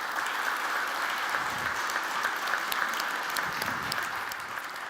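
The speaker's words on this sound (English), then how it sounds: "I'd like to ask you to give a warm applause for these companies" Warm applause from a symposium audience at an EV charging and V2X event, steady dense clapping throughout, fairly close and even in loudness with no talk over it.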